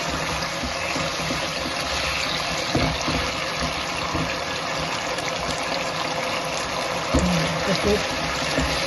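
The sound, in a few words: water poured into potato curry to make gravy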